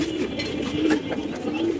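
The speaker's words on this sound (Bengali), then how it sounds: "এখানে আছে 2 পিস কবুতর মাশাআল্লাহ।" Red Lahori pigeons cooing, a low repeated coo rising a few times over a steady murmur of birds close by at a pigeon market.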